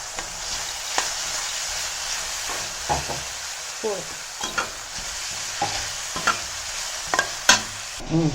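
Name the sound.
stirring and sautéing onions in a pan for Schezwan fried rice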